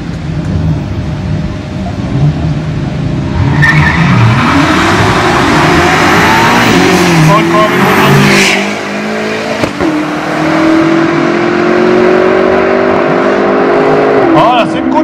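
A BMW and another car race side by side down a quarter-mile drag strip at Aldenhoven, engines revving loudly and rising in pitch through the gears, with a roaring rush of sound and people talking over it.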